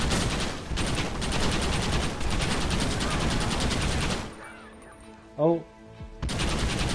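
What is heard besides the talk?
Gatling gun firing in the video game Red Dead Redemption 2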